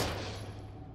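Gunfire in Daymare: 1998, a short, loud burst of rapid shots with a thick, booming tail.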